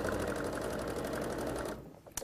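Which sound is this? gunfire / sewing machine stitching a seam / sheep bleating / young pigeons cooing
sewing machine stitching a seam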